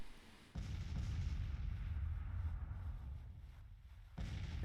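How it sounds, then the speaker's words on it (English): Artillery fire in the strategy game Grand Tactician, a dense, low rumbling barrage that rolls on without a break for several seconds, then drops away briefly before surging again. "We've got this artillery here."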